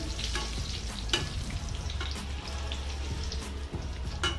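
Mustard seeds and dried red chillies fry in hot oil, a continuous close sizzle with scattered pops and light stirring clatter, no one speaking.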